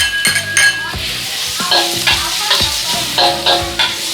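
Garlic and chili stir-fry in a little oil for a Thai chicken jungle curry, with a loud, close, steady sizzle and rhythmic clinks of a spatula scraping the pan.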